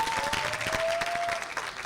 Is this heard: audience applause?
yes